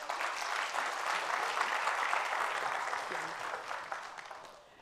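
A church congregation breaks into loud, dense applause for the pastor's wife, and the clapping fades out toward the end.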